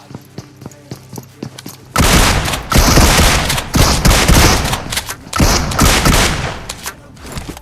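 Rapid bursts of loud gunfire in PUBG Mobile, a pump shotgun among the shots, heavy overlapping blasts after a quieter run of clicks and taps, close and dense with short gaps.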